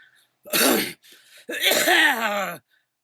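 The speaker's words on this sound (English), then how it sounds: "She coughed and said, Fuck that, spitting bits of brown clay." A woman gives a short harsh cough, pauses, then a longer ragged coughing fit with spluttering as she spits out clay, close and dry.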